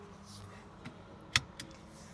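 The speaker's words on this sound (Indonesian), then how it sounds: "aku pakai seat belt dulu." A seat belt buckles inside a Chery C5 car: one sharp, close metallic click stands out in a quiet cabin, with a couple of softer taps of the belt just before and after.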